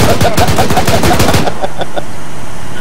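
Rapid machine gun fire in a Soviet-Afghan war video game, a loud, close, rhythmic stream of shots lasting about a second and a half before breaking into a few sparse, fainter pops.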